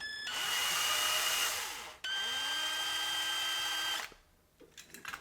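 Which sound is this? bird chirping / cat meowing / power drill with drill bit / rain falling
power drill with drill bit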